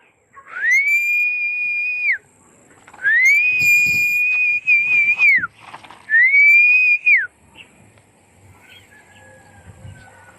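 Three long, loud human whistles, each rising then holding a steady pitch before dropping off, with quiet outdoor background noise afterward.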